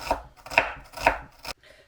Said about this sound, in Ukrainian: я нарізаю на половинки і буду півкільцями ось так нарізати